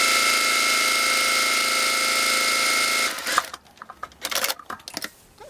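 A sewing machine stitches a quarter-inch seam on a fabric face mask, a loud steady mechanical whir for about three seconds that stops abruptly, followed by brief clicks and handling noises.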